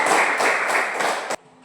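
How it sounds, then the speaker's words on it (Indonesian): Brief burst of classroom applause for a student group, a dense run of claps from many hands lasting about a second before cutting off abruptly. "Mari kita tepuk tangan untuk ke kelompok 3"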